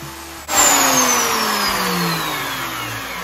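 A router fitted with a V-groove bit cuts into wood for a vertical workbench vise: the motor kicks in abruptly and holds a loud, steady whining drone up close, with no talking.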